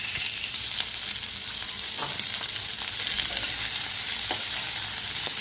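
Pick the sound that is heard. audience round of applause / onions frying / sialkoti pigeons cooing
onions frying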